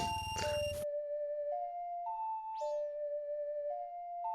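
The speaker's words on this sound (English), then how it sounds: "Yeah, with the bell sound." Bell-like chimes ring out in the Wind Waker mini-boss theme from a video game, a sequence of clear, sustained bell tones stepping between pitches after a brief burst of voice at the start.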